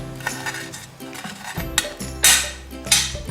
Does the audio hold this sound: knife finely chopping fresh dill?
yes